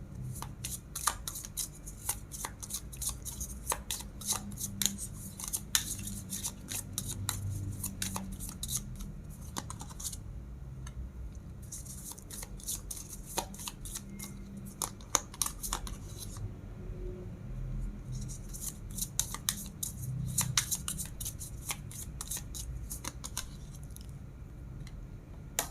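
Tarot cards shuffled by hand during a reading, giving dense bursts of crisp riffling and snapping in repeated clusters with short pauses between, close and steady for the whole stretch, no talking.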